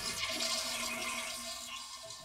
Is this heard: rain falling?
no